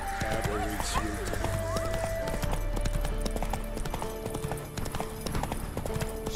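Roach the horse galloping in The Witcher 3, with rhythmic hoof clip-clops and a whinny under a man's speech and game music.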